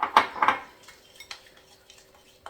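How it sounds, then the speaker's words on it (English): A utensil stirs food coloring into frosting in a bowl, giving a few close, soft clinks and scrapes against the bowl in the first half second, then quieter, sparse stirring. "Just want to make sure you mix it really good."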